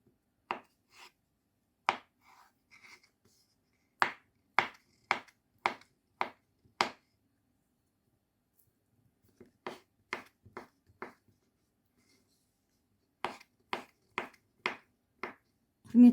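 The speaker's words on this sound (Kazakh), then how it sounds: "Осылай турап аламыз барлығын." Potatoes being cut into cubes for a simple salad, giving crisp knife-on-board chops in quick bursts of four to six strokes with short pauses between, close and clear with no talking.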